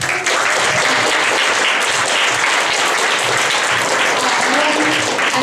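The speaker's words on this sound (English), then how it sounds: "I'd like you to hold off your applause until the end of the announcements." Dense audience applause at a vocabulary bee awards ceremony, loud and continuous clapping from a large crowd filling the room steadily with no pause.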